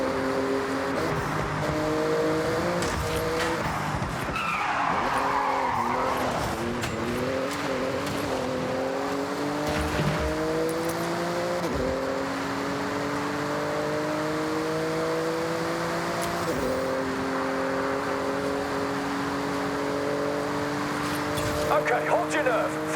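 Porsche racing through a speed zone in Forza Horizon 6, its engine revving steadily and climbing through gears with faint tire noise, under continuous game sound and voices talking over it.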